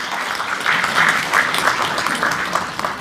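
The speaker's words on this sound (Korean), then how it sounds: "큰 박수 부탁드립니다" An audience at a book launch event applauds with a full, steady burst of clapping throughout, close and fairly loud.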